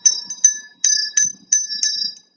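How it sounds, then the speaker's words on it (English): Small metal prayer bells ring in a quick string of about seven bright, clear strikes, each leaving a short shimmering ring. They sound close, with a faint knock under some strikes and no speech. "These are called prayer bells."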